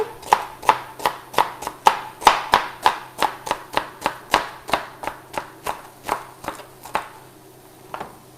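Celery sliced with a knife on a cutting board for a spicy apricot lamb casserole, a steady run of about twenty crisp chops, close and evenly paced, slowing and ending with a couple of final cuts.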